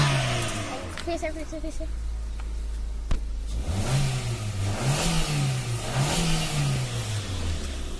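Suzuki Ciaz exhaust revving in rising and falling surges, loud and close, with someone talking over the start before the engine note swells.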